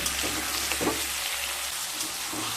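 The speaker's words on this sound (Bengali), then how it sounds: "কুমড়োগুলোকেও হালকা ভেজে নিয়ে তারপর ফিরে আসছি" Pumpkin pieces, lightly salted, sizzle and crackle while frying in hot oil, with a steady hiss and a few soft stirring scrapes throughout.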